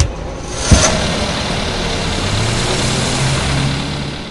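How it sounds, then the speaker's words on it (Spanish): A car engine idles steadily in the horror video game Evil Nun, a continuous mid-low rumble with a faint higher hum, moderately loud throughout and heard alone, marked by one brief knock near the start. "¿Por qué suena un carro?"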